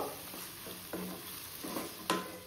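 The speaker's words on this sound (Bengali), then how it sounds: "এবার দেব হচ্ছে সয়াবিন গুলো। সয়াবিনের সাথে একটু কষিয়ে নেব।" Soybean chunks stirred through hot oil and browned spice paste, a soft sizzle under scraping spoon strokes against the pan, several short scrapes in quick succession, close and fairly quiet, no talking.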